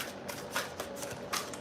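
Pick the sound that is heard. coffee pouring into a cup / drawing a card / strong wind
drawing a card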